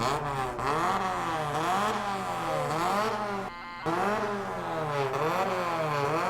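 A Kanjo-style Honda Civic exhaust revs up and down in repeated rising and falling sweeps, loud and close. There is a brief dip in the middle before the revving resumes, with no talk.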